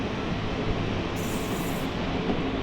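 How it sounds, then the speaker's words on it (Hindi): A passenger train pulls out of Chanderiya railway station with a steady, close, loud rumble of wheels and carriages rolling on the track, no voices over it. "अब हमारी ट्रेन निकल रही चंदेरिया रेलवे स्टेशन से"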